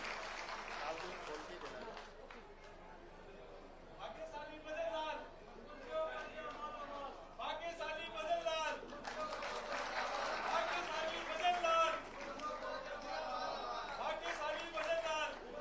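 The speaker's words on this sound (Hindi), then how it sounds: "आप सबकी बधाइयां भी तालियों से होनी चाहिए" Audience applause at a government housing allotment ceremony for nomadic and semi-nomadic beneficiaries, attended by the Chief Minister, rising into sustained clapping and crowd murmur beneath a voice over a loudspeaker.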